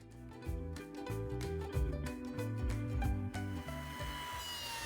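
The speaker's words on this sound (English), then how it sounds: "Here's a look at resawing the material." Thick rough lumber boards, 2 to 3 inches thick, being resawn toward 1-inch thickness for fly box tops and bottoms, with a steady near saw cut showing rhythmic loading and easing as the blade works through the wood.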